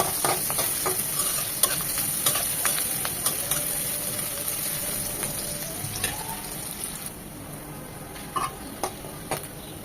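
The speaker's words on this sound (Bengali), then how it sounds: "পেঁয়াজের সাথে ভেজে এটা মচমচে হবে" Three dried red chilies frying with onion and garlic in a pan, a constant sizzle broken by repeated scraping stirs and light utensil taps, close up, with no speech.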